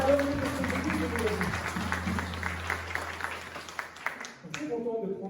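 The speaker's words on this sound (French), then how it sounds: "Est-ce qu'on peut juste les applaudir bien fort?" A church congregation applauds warmly, a moderate wash of clapping with a few sharper claps standing out, fading toward the end as a voice begins speaking.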